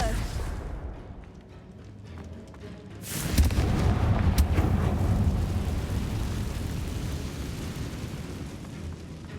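Confringo blasting spell from Hogwarts Legacy going off as a sudden loud explosive boom partway through, followed by a long rumbling, crackling tail of debris over ambient game sound, with a voice briefly speaking.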